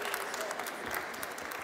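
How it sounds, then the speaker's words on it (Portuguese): Brief burst of audience applause welcoming a speaker at a cybersecurity session of a job and training fair in Fundão, dense clapping from a crowd throughout. "Uma grande salva de palmas para darmos aqui as boas-vindas."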